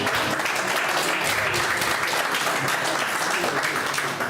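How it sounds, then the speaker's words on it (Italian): An audience at a Christmas poetry evening claps steadily for the poet Giuseppe, a continuous wash of applause with no break across the whole moment. "Un applauso a Giuseppe."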